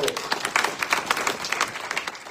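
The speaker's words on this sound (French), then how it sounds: "Acclamons pour la gloire de Dieu." Church congregation applauding during a service, dense rhythmic clapping from many hands, close and lively, with voices mixed in.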